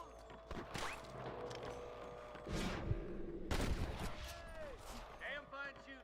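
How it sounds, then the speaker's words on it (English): Gunfire in the Western video game Red Dead Redemption: several sharp shots and bursts crack out amid game sound effects, with a couple of loud reports standing out over busy background noise. "Damn fine shooting, boys."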